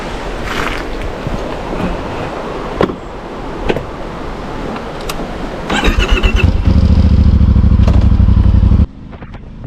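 A 2026 Voge DS800X Rally motorcycle engine is quiet at first, then rises into a loud, close, steady running drone for several seconds before cutting off abruptly.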